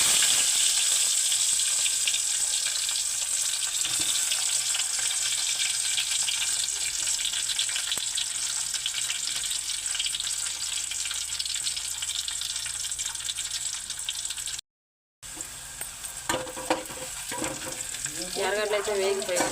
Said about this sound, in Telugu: ఎర్రగడ్డ అయితే వేస్తున్నాను ఫ్రెండ్స్.